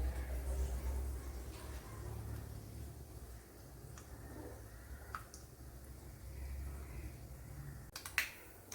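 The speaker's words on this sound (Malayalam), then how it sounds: "ഇവിടെ കടുക് പൊട്ടിയിട്ടുണ്ട്" Mustard seeds pop in hot oil as a few scattered, sharp little cracks over a quiet, low background hum, with a brief cluster of pops near the end.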